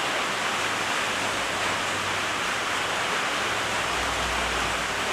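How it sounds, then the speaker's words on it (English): Steady, even hiss of rain falling, a constant wash of noise with no voices over it. "You hear the rain again."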